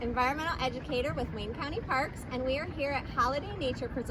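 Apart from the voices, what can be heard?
No distinct noise like a dog, phone or traffic.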